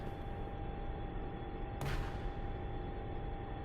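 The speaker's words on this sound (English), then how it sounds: "Throwing flashbangs around." A single flashbang detonates in a quiet stretch of a video game, one sharp broadband burst over a steady low background hum, with no talking.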